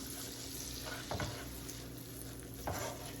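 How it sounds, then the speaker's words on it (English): Onions sizzle steadily in a hot pan for a creamy Italian sausage pasta, seasoned with freshly ground black pepper, with two brief scraping stirs breaking through the constant close hiss. "We're going to cook these onions up for approximately 5 minutes"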